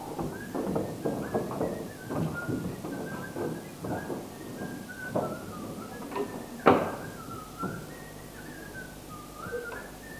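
A person whistles a lively, wandering tune in short repeated phrases during a stage play, fairly close and steady, with a few faint knocks in the background.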